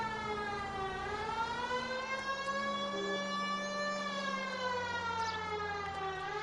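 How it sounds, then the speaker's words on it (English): Wailing fire truck siren in the video game L.A. Noire, a rising and falling harmonic tone sweeping steadily and loud across the whole stretch, with a low engine hum beneath and no talk. "Fire truck sirens sound like this."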